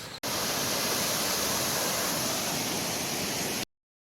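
Shelve waterfall roaring in a steady, dense rush of falling water, loud and continuous from start to an abrupt cutoff near the end, with no voices over it.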